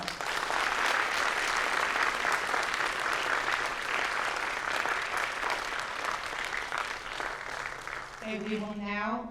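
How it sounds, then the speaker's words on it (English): Sustained applause from an audience at a French National Honor Society induction ceremony, dense clapping that holds steady for several seconds, then fades as a voice begins speaking. "give my phenomenal French National Honor Society inductees a round of applause."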